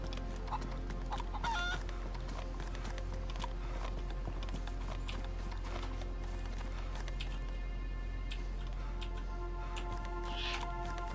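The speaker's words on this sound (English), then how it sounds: "Chicken!" Chickens cluck in a video game, scattered soft clucks and fowl calls over a steady low ambient hum, fairly faint and without talk.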